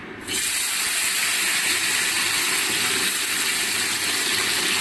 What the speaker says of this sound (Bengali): গরম তেলের মধ্যেই ফোড়ন দিলাম তেজপাতা, শুকনো লঙ্কা আর গোটা জিরে